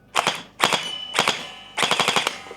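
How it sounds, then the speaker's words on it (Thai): A Kriss Vector gel blaster fires on full auto in four short, loud bursts of rapid shots separated by brief gaps, close by indoors. "นี่ก็ยิงออโต้ไปเรื่อยๆก็ฟีดโอเคนะฟีดดีกว่ายิงมือเยอะ"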